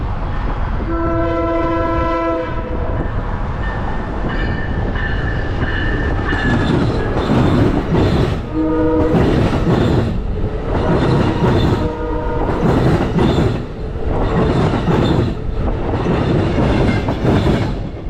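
An Amtrak locomotive sounds a harsh multi-tone horn in several blasts, first long then in shorter bursts, as the train passes close with rumbling wheels and rhythmic rail clatter.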